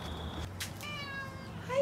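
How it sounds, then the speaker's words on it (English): A cat in a camper van meows loudly and close by, a couple of drawn-out calls with clear harmonics, over low steady background noise. "Kitty, what do you got to tell us? So many things to say."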